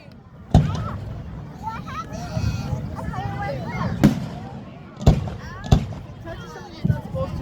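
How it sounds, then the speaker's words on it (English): Fireworks burst in a series of sharp, loud bangs at irregular intervals, with crackling trails between them, while spectators chatter and react over a steady crowd murmur. "Because a firework is still an explosion."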